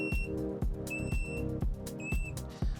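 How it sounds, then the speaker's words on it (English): Water leak detection sensor for an underwater camera housing, triggered by touch, giving repeated short high-pitched beeps in a regular rhythm, roughly once per second, with steady background noise underneath. "we're going to touch it now with just our fingers, and it will start beeping and emitting light signal"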